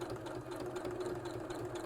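A sewing machine runs a short reverse stitch with a steady, low, even motor hum and fast mechanical whir at a moderate distance. No one speaks over it.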